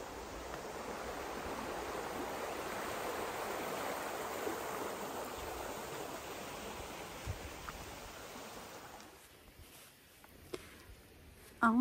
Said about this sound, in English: So we just found this little river.